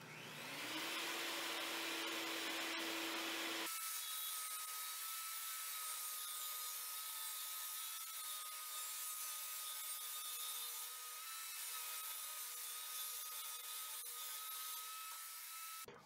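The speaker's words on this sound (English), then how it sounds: "Once the wood is cut, you want to get an orbital sander and then soften the edges" Power saw cutting wood for a workbench upgrade: a loud whine with a low steady tone for a few seconds, then a sustained high-pitched electric hum as the cut continues, close up, without speech.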